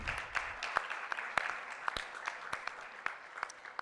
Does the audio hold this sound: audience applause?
yes